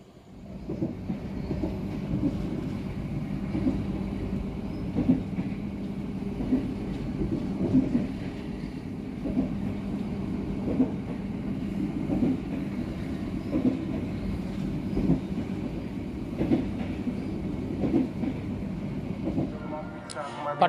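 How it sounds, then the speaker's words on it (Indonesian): A Saunggaleh passenger train in Indonesia running steadily on rails toward Purwokerto Station, a continuous low rumble with rhythmic clicks of the wheels throughout. "kereta api Saunggaleh yang saya naiki sudah tiba di Stasiun Purwokerto"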